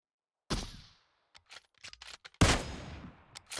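Gunshots in the tactical shooter Riot Squad, a sharp burst followed by scattered smaller pops, then a second loud blast with a long decaying tail, fairly close and with no talking.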